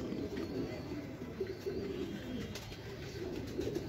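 Domestic pigeons kept by a fancier, cooing softly and steadily at close range, a low rolling murmur that repeats throughout with faint background voices.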